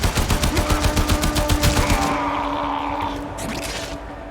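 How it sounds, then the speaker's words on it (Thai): Rapid automatic gunfire in the shooter game Warframe, a rhythmic burst of loud close shots lasting about two seconds, then fading into a rumbling tail and scattered impacts. "ยิงขา ยิงขา ยิงหัว"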